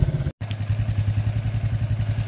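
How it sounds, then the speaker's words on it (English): A Suzuki LT230E ATV engine idles close by with a steady, even low throb and a rhythmic mechanical clatter, briefly cut by a short silent gap near the start. "Adjusted the idle a little bit. It was idling too high. Just purrs."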